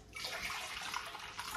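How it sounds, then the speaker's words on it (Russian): Warm water pours into a kettle or vessel in a home kitchen, a continuous close splashing rush that lasts the whole moment with no speech. "Еще долью теплой воды."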